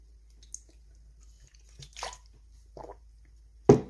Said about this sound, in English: I'm going to take a drink of water.